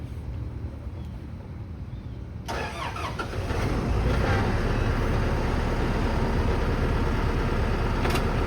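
A vehicle engine cranks briefly after a quiet stretch, then catches and settles into a loud, steady rumbling idle that fills the rest of the moment.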